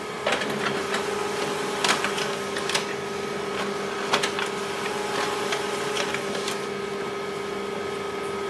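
An HP LaserJet Pro MFP-3103fdw all-in-one laser printer runs a two-sided print job, with a steady mechanical hum and whir broken by repeated clicks and paper-feed clacks. No voices are heard.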